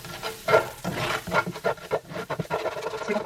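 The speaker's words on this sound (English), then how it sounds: "And then I'm going to give that a little mix." Spoon stirring black pepper and salt through a pasta sauce in a pan, close scraping and sloshing strokes in an irregular rhythm with a light sizzle beneath.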